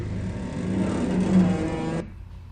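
The aircraft engine in the video game Aces High drones steadily and loudly, then cuts off sharply near the end, leaving a faint low hum.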